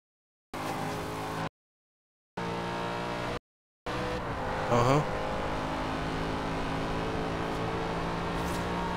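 A car accelerates hard from a standstill on takeoff, its engine note loud and rising, broken by brief gaps early on, then a sustained roar with a faint squeal.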